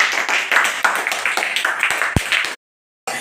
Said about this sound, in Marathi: छान टाळ्या वाजवा सर्वांसाठी.